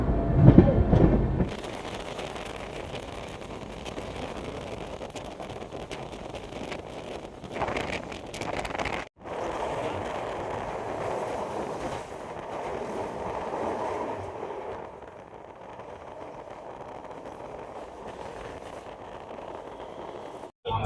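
Netaji Express train rolling into Prayagraj Junction, a steady rumbling hum of the moving coaches with wind buffeting, loud and continuous with a brief dropout and a few heavier surges along the way.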